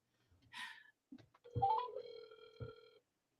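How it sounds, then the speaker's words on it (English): A phone rings at a birthday party: a faint electronic ring with a steady tone that sustains for over a second and repeats once after a brief gap, preceded by a short chirp, with no talk. "Oh, something's ringing. That's my phone."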